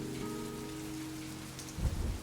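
Steady rain falls throughout, a constant dense hiss of drops with a low rumble swelling near the end, no voices.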